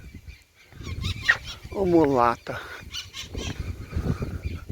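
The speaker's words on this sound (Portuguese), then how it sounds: "Ah, isso é papagaio?" A parrot gives one brief, harsh, honking squawk partway through while people talk around it.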